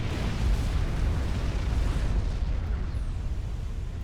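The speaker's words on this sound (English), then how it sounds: "putting the nuke launcher to good use here and hitting back for his team. That will strike and strike hard" Nuclear missile strike in the Supreme Commander real-time strategy game: a huge sustained rumbling explosion with dense low-end roar and crackling debris, loud and continuous throughout, slowly thinning toward the end.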